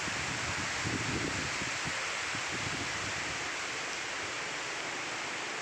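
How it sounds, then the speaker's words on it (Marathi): Constant broadband rush of rain and wind, steady and unbroken, with no voices. "वारा आणि पाऊस"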